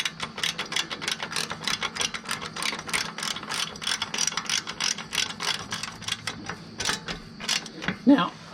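A ratchet tightens a nut on a Dixie Chopper riding mower's exhaust manifold, a quick run of rapid clicking pawl strokes in steady bursts, close up, ending with a clunk.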